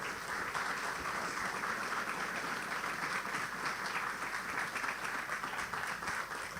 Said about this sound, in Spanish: Así que pedimos un fuerte aplauso para Jorge y lo escuchamos.